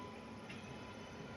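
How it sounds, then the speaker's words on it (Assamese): A train runs past close to Sambalpur station, a steady low rumble with a faint higher hiss holding evenly through the short stretch, with no talk over it. "ট্ৰেইন গৈ আছে।"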